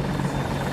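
Stealth chopper helicopter in a video game: a loud, steady rotor drone with a low thrumming hum, continuous and close throughout the brief moment.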